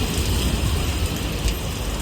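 Steady rain falling beside a road in a Maharashtra market area, a dense continuous hiss of drops on surfaces heard alone and fairly close.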